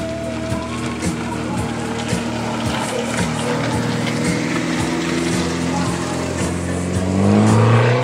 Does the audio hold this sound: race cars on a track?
yes